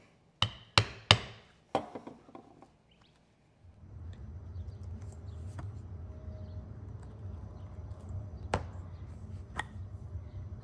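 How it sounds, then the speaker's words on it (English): A leather awl is tapped through snapping turtle leather: several sharp, ringing knocks in quick succession, then a steady low hiss broken by occasional isolated clicks. "chasing these out with my awl, and the awl is just barely long enough"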